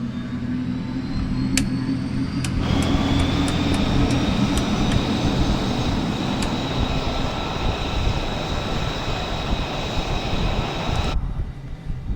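Simulated F-35B jet engine from Microsoft Flight Simulator 2020, a loud steady roar with a rising whine spooling up and holding, broken by a few sharp clicks, then cutting off abruptly near the end.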